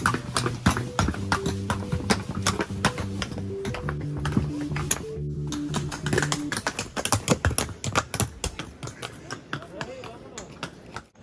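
Horse hooves clop on hard ground in a quick, uneven rhythm as a horse is driven up onto a boat in Yelapa, close by, with an engine droning underneath and voices talking.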